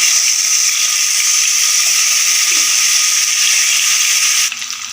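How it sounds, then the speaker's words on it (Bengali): Katla fish frying in hot mustard oil in a kadai, a steady, loud, bright hiss of sizzling oil running almost the whole time and easing off slightly at the very end. "কড়াইয়ে আমি পরিমাণ মতো সর্ষে তেল গরম করতে দিয়েছি এরপর মাছগুলো আমি ফ্রাই করে নেবো"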